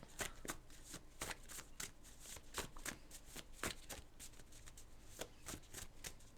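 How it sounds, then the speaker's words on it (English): Cards from a vocabulary deck being shuffled and pulled out, a steady run of crisp riffling snaps and flicks close to the mic, with no voice. "when I pull the cards out of the vocab deck"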